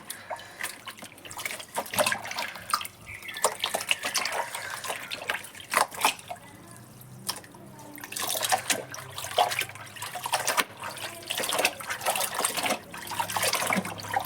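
A new nauvari saree is rinsed by hand in water, with intermittent splashing, sloshing and dripping in uneven bursts, fairly close and moderately quiet, with no talking.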